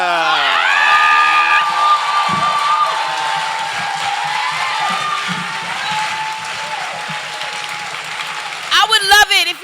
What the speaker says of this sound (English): Clap for that.